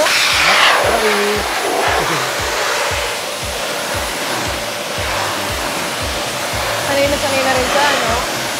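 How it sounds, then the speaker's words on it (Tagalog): A hair dryer runs at full power for blow-drying, a loud continuous roaring whoosh throughout, with brief faint voices and small handling sounds underneath. "Paano po ang tamang pag-blow dry? Ang pag-blow nito, pag-blower nito, kailangan todo."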